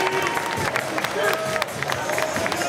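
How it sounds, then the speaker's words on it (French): An audience applauds during a cosplay costume contest: a dense, continuous wash of clapping and crowd noise, with voices and cheering mixed in throughout. "Applaudissements."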